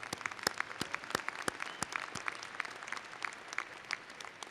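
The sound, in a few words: commencement audience applauding faculty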